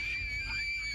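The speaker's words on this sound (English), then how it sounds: "A sudden loud scream sends the girls running in terror." A girl's sudden loud scream, shrill and sustained for about a second. It sounds slightly distant and thin over a muffled background.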